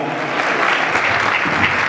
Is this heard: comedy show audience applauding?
yes